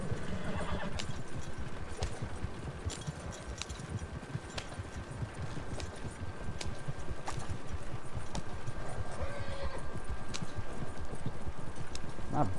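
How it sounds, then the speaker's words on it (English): Horse hooves gallop in steady, rapid rhythm across a Red Dead Redemption 2 scene, loud and continuous throughout, with a whinny near the start and no talking. "Beating the horse, I'm getting them to move faster"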